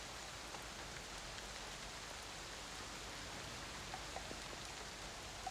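Steady rain ambience plays behind a tabletop role-playing session, an even wash of falling drops with a few faint patters and no voices.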